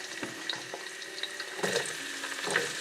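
Garlic frying in oil in a pan while making pinakbet, a soft sizzle with a few faint scraping stirs and light clinks, quiet and close.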